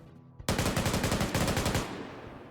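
Sustained automatic gunfire in the military shooter game Arma 3 erupts abruptly after a brief quiet moment, a loud rapid burst of shots lasting over a second before trailing off into fading echo.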